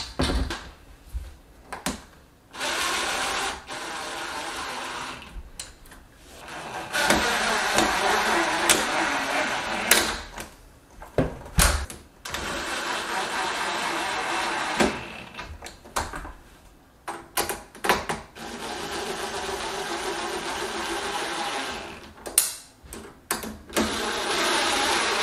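A power drill or driver runs in repeated bursts, driving screws into the frame of an interior storm window, several separate runs of whirring with short pauses between them, close by and without talk.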